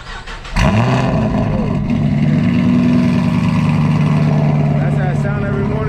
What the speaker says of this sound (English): Cold start, y'all.